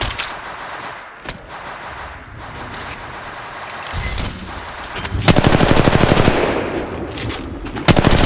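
Apex Legends Mobile gunfire: sparse shots at first, then loud, sustained automatic bursts of rapid close fire toward the end, with a sharp crack just before it stops.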